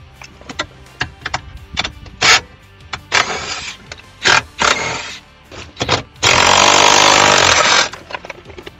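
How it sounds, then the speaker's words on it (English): Power tool driving out the four 13 mm bolts that hold a Crown Victoria steering column to the dashboard, heard as repeated short loud bursts of ratcheting whir with a long sustained run near the end, close by and with no talk over it. "we're going to remove the 4 13s that are holding the steering column to the dashboard"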